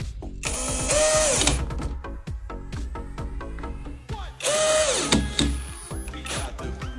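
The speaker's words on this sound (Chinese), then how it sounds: "现在就可以把螺丝给它拉上劲儿了。" Power drill driving screws to tighten a replacement handle on a wooden bedroom door, two loud whirring bursts that rise and wind down, separated by clicks, rattles and handling noise close by.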